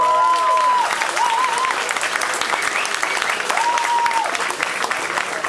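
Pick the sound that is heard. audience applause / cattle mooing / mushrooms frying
audience applause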